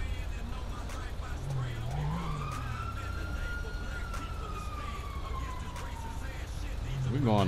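A police car siren in the video game GTA 5 sweeps up and wails steadily for several seconds over a constant rumble of car engines and traffic, with someone talking over it.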